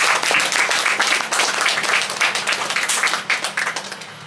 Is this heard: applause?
yes